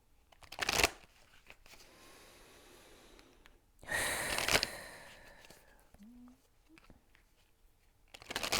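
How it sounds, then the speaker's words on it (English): Energy cards being shuffled and drawn, with a couple of short, close riffling bursts and papery rustles separated by quiet stretches and soft breathing. "I'm going to pull out the card from the energy cards again to see what comes up now"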